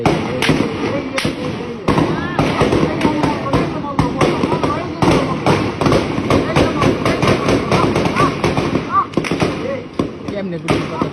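Gunfire outside Jatrabari police station: loud, sharp bangs come in rapid irregular bursts, almost without pause, and some sound like distant thuds. Voices can be heard faintly among the shots.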